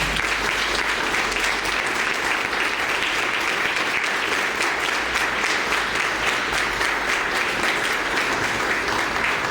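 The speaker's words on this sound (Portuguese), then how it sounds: "As palmas do Senhor." A church congregation applauds for the Lord at the close of a leadership class, a long, even roar of clapping that stays loud and unbroken for nearly ten seconds.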